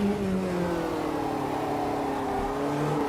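A Volkswagen Fusca race car in Automobilista 2 holds a loud, continuous mid-pitched engine drone with slowly shifting tones as it downshifts to third, close and steady without talk.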